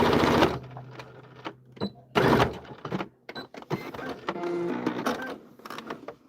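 A home sewing machine runs in bursts while stitching fabric corner to corner, its mechanical whirring starting and stopping in short runs with brief pauses between, close up.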